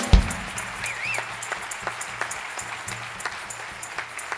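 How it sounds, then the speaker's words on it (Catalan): Applause for a musician at a Catalan music and wine-pairing event: a sparse scattering of individual claps, fairly faint, with a soft tonal whistle or voice briefly rising above the room noise. "demanem un fort aplaudiment per ell"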